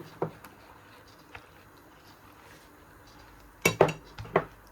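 A utensil clinks against a bowl while sugar is mixed into a corn cake batter, a single tap early on and then a quick cluster of louder clinks near the end, in a quiet kitchen.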